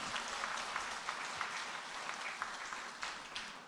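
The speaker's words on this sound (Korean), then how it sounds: "오늘 주께 영광 귀한 찬양 올린 우리 할렐루야 찬양대 하나님께 영광의 박수를 올려드리겠습니다." A church congregation applauding the choir after a hymn during Sunday service: dense, even clapping from many people, sustained throughout without talk.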